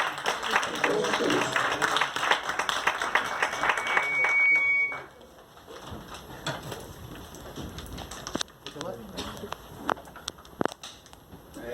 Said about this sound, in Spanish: lo recibimos por favor con un gran aplauso